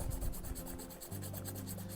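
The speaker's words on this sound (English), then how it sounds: "I just take it, and I do a little light sanding" A steady, close rubbing rasp of emery cloth worked back and forth over a golf club shaft, continuous and fairly quiet, with a low hum underneath.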